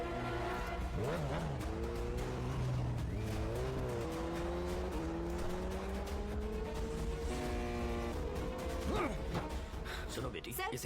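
A Yamaha R1 motorcycle ridden by a helmeted rider passes by, its engine whine sweeping up and down in pitch over a busy street scene with tire noise and other traffic, loud and continuous.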